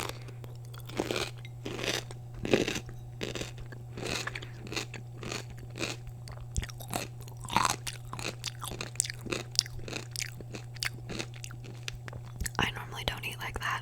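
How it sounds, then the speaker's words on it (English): Wet, crisp crunches and steady chewing of a garlicky pickle, close to the mic, repeating in quick bites across the whole stretch, with soft whispering in between. "I love pickles,"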